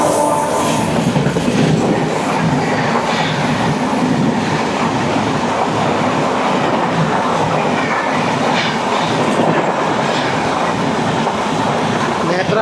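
The Netravati Express rushes past a moving train in a loud, continuous roar of wheels and clattering carriages that holds steady for over twelve seconds, close and heavy throughout.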